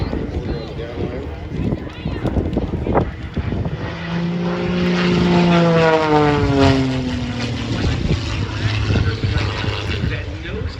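A propeller aerobatic airplane pulls back into a vertical climb during an airshow performance at EAA AirVenture Oshkosh, its engine tone swelling and sliding in pitch as it passes, loud and steady under a commentator talking over the PA.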